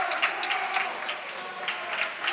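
A crowd cheers and claps steadily for a swimmer finishing the last lengths of a 500-yard race at a school swim meet, with the noise held at an even, moderate level and a few brighter shouts rising from it.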